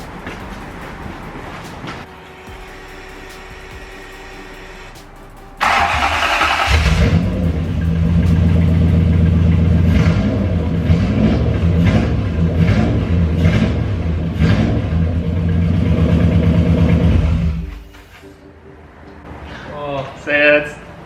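A Toyota 1UZ V8 swapped into a Cressida cranks and fires for the first time, settling into a loud, steady idle with revs rising and falling over about twelve seconds before shutting off, with people talking around it.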